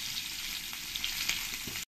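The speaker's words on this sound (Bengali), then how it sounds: "তেল দিয়ে এবারে আলুগুলোকে ভালো করে ভেজে নেব" Potatoes fry in hot oil in a wok with a steady, close sizzle, a few light stirring clicks, and a sudden cut to silence at the very end.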